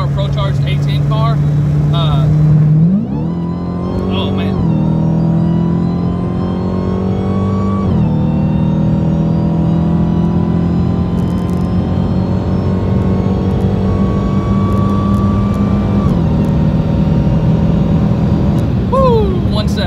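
A Dodge Hellcat race car with a Pro Charged setup accelerates hard from inside, its engine note climbing steadily through several gear shifts, loud and continuous over about twenty seconds, with faint talk mixed in.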